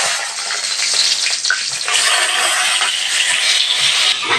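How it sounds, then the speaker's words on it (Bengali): Eggplant pieces coated in salt and turmeric fry in hot oil, making a loud, dense, continuous hiss that holds steady throughout, with no voices. "দেখো বেগুনগুলো আমি এরকম করে কেটে একটু নুন হলুদ মাখিয়ে রেখেছি, এবার একটু ভেজে নেব"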